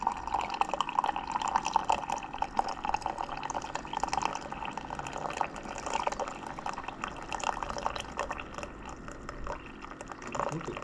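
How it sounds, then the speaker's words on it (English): Vinegar dribbles out of a container in a faint, steady trickle of small drips that runs without a break. "The vinegar is coming out."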